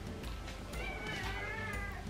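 A hungry kitten about to be fed meows at home, a faint but insistent cry rising and wavering through the short stretch against soft room noise.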